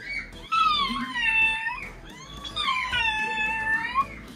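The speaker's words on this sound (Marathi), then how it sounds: "ही मांजर ही मायला भिडू लागली." A cat meows twice in drawn-out, rising-and-falling calls, close and fairly clear, with a short pause between them and quiet household background.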